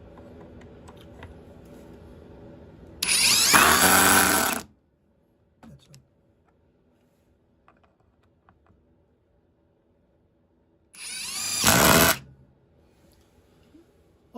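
A power drill drives screws into a protection block on a table saw sled in two loud, whirring bursts of a couple of seconds each, separated by a long near-silent gap with small clicks.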